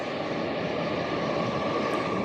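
A train passing by near a small farm, a steady loud rumbling roar with a constant engine-like hum, sustained evenly for the whole stretch without any voices.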